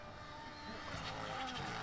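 Rally car driving flat out on a stage, engine revving hard with tyre and gravel noise rising over roughly two seconds, moderately loud and close, with no talk.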